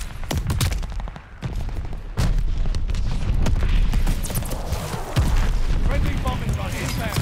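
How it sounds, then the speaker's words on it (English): Heavy, rolling explosions from a bombing run in the World War II shooter Call of Duty: Vanguard, booming loudly and repeatedly over sustained battle noise and gunfire. "Friendly bombing run inbound."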